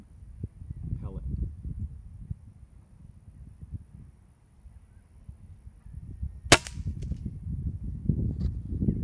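A single sharp crack from an Air Venturi Avenger .22 air rifle firing a 13.7 grain Crosman Dome pellet stands out against steady outdoor rustle and low rumble.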